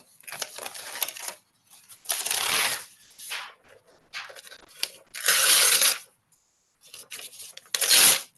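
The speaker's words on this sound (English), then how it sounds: "you're going to take that piece of paper and you're going to hold it up" Paper being torn apart by an audience at a dating class, several bursts of ripping and crumpling in irregular clusters with short pauses between them, fairly loud and without talk.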